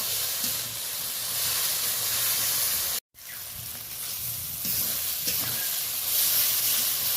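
Curry with ginger paste, tomato and onion sizzles steadily in a pan, a continuous close hiss with a brief dropout near the middle.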